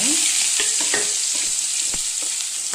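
Mustard seeds and curry leaves fry in hot oil for palak poriyal, giving a loud continuous sizzle with a few crackles and pops.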